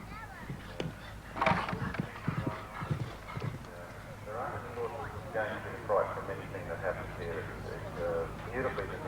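Hoofbeats of a big, strong horse at a 1993 World Cup qualifier show jumping competition in Busselton, faint distant clip-clop thuds under steady commentary over a low background hum.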